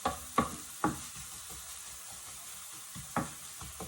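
Ground beef and potatoes for a gratin simmering gently in a pan over low heat, a soft steady sizzle broken by a few sharp clinks and scrapes of a utensil, close and fairly quiet with no talking.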